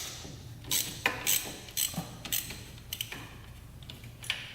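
Ratchet loosening a 14mm drain bolt on a 1987 Kawasaki Tecate 4 two-stroke 250cc race quad, heard as close bursts of rapid metallic clicking separated by short pauses, with no talking.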